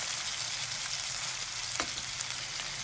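Chicken keema is mixed in a hot pan, with a steady, loud sizzle and frying hiss throughout and a faint scrape of the stirring utensil partway through, no talk.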